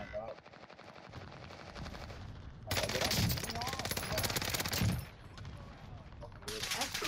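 Rapid bursts of automatic fire from a Cooper carbine in the video game Warzone, dense fast-cycling shots in two long strings with a shorter burst at the end, and a voice talking underneath.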